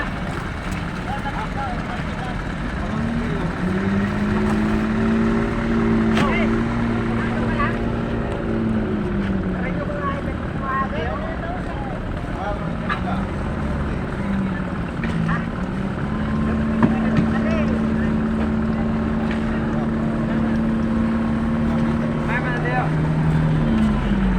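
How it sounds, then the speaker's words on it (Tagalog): Fishing boat engines hum at Bulan fish port in Sorsogon, Philippines, a steady droning motor tone that rises and falls in pitch over wind noise, continuous and fairly loud throughout. "at napakarami ng bangka na ayan po, oh, yung mga bangka dito."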